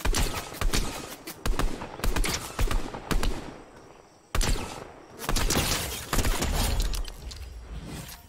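Rapid gunfire in a Fortnite match, with repeated sharp shots and bursts spread throughout, close and fairly loud over game ambience.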